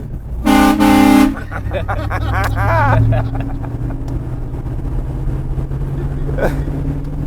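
A train horn mounted on a lifted Ford F-450 dually truck gives one loud, sustained blast of about a second. A low engine drone runs underneath, and people talk in the cab afterward.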